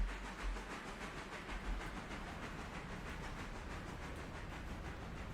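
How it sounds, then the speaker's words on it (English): A train rolls past in the railway game Railroader, giving a steady, faint hiss and rumble of wheels on track that holds even for several seconds, with no talking. "Bird's eye view of the train going by."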